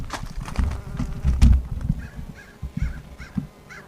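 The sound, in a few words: hornets buzzing around a beehive being robbed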